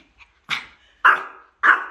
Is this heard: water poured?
no